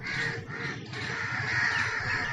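Crows perched on a water tank caw repeatedly, several harsh, overlapping calls close by in a busy outdoor setting, with no speech.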